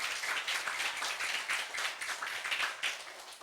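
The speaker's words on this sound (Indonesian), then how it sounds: "Tepuk tangan untuk Pak Sulaiman Hakim." Audience clapping for a guest, a Cirebon youth figure, on a religious Eid al-Fitr TV programme; steady moderate applause of many hands throughout, fairly soft and even, with no talk over it.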